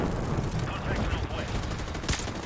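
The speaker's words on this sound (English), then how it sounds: "counts the machine gunners in the window" Machine gun fire in Call of Duty: Modern Warfare Remastered crackles as steady bursts under battlefield noise, with voices speaking faintly amid the shooting.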